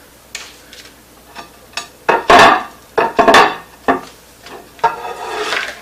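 Glass turntable plate of a Panasonic NN-SD765 microwave oven set back into its cavity, giving a few sharp clinks and knocks of glass on plastic and metal, close and fairly loud with short pauses between.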